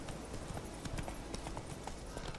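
Horse hooves clopping in a steady rhythm while riding in The Witcher 3, a continuous patter of soft beats over a dense game soundscape, with no voice over it.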